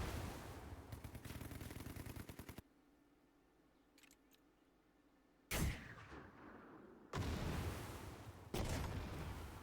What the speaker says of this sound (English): Mortars away.